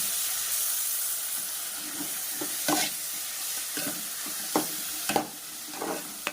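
Mushroom gravy masala sautéing in a pan, a steady close sizzle broken by scattered scrapes and taps of stirring, with no talk.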